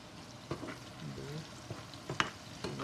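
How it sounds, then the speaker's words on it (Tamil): Onions fry in a pan at home with a steady low sizzle, broken by a few sharp stirring clinks and scrapes spread through the stretch, with no talking. "இன்னும் கொஞ்சம் பொரியட்டும் வெங்காயம்"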